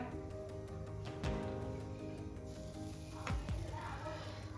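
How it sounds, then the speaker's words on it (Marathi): A soft, steady sizzle from bajra flatbread roasting on a hot griddle with occasional scraping taps, close by and fairly quiet, no talking. "आता आपला तवा गरम झाला आहे आता आपण भाकर शेकून घेऊया"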